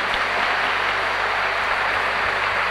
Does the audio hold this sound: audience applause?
yes